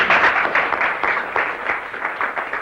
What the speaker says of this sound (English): He left that room with the applause ringing in his ears